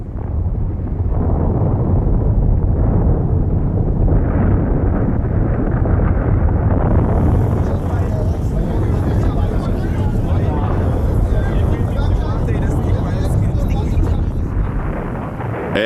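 A volcanic eruption on Montserrat island rumbles as a dense, continuous low roar with constant turbulent noise, loud and unbroken, with a narrator's voice speaking over it.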